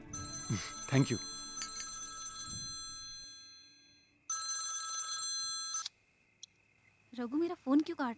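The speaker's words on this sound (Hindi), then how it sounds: "रघु मेरा फोन क्यों काट रहा है?" A telephone rings indoors in a Hindi film scene, with steady electronic ring bursts separated by pauses, and people talk briefly before and after the ringing.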